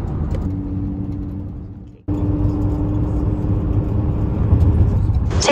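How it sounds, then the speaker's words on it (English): A car cruises on a freeway, its steady engine hum and tire rumble filling the cabin at a constant level, with a brief dip in noise partway through. "We're driving and we're on our way."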